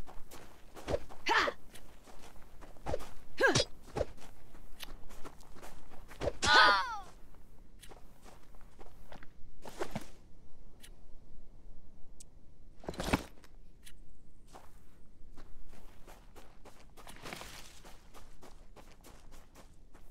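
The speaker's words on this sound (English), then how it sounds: "Heard the old footsteps." Footsteps in The Front video game, a series of irregular dull thuds and scuffs spread across a quiet background, with occasional louder knocks and brief vocal sounds.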